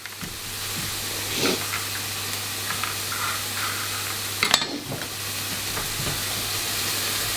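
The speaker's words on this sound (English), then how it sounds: "So we're gonna brown ye old onions" Steady sizzling of onions browning in a hot pan, a constant crackly hiss with a low hum beneath and a brief clatter midway.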